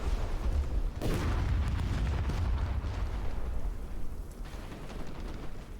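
Rocket explosions in the Apocalypse 2066 video game boom heavy and near, a big blast near the start rolling into dense rumbling and crackling fire that holds under a continuous roar.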